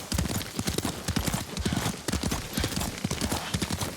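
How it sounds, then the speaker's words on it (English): Horse hooves clip-clop at a brisk, regular gait while a rider travels in the video game Ghost of Tsushima, the rapid close strikes running without a break under a steady background wash. "Lord Sakai taught me to ride a horse."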